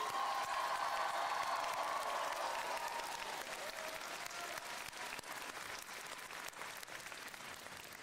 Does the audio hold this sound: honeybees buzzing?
no